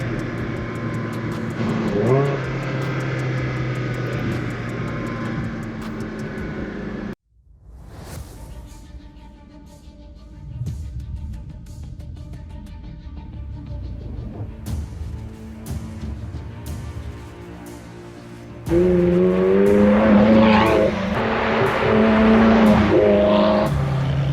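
A Ferrari engine revs loudly, heard from outside the car among buildings. The loud roar cuts out abruptly, a quieter stretch with lighter engine noise follows, then the engine returns strongly near the end.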